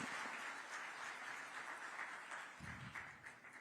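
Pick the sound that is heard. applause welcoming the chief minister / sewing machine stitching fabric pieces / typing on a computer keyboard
applause welcoming the chief minister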